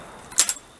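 A lead bullet drops onto a hard surface during trapdoor Springfield rifle reloading, giving two quick bright clinks close up, the first louder, in an otherwise quiet moment.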